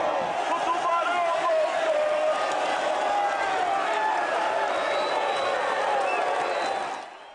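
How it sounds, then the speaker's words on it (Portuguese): A stadium crowd applauds and cheers a football coach's lap of honour as Londrina celebrates promotion to Série B. The roar is dense and steady, then fades out at the end. "Cláudio Tencati fez a volta olímpica, aplaudiu e foi aplaudido."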